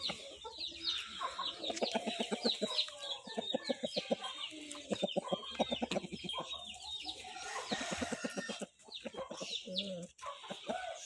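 Chicks and hens cluck and peep steadily at close range, a busy mix of rapid chirps and lower clucks throughout with no talk.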